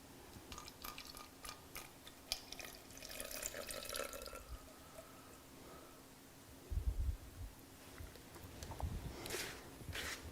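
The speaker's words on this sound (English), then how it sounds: "Puncture a hole in the safety seal and add the 500 milliliters of fluid" Fluid poured from a container into a pint bottle while mixing simulated blood for a manikin, heard as a close, faint trickle with scattered drips and splashes, no talking.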